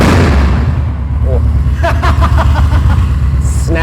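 A custom bagger motorcycle's engine roars under a strong throttle rev, loud and close, with sharp bursts and a chattering exhaust, while people talk over it.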